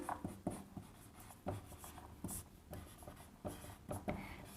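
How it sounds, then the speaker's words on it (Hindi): Handwritten notes scratch across paper in short, uneven strokes with brief pauses between words, quiet and close, no voice present. "मैं शॉर्ट में लिखती हूँ कि विचार"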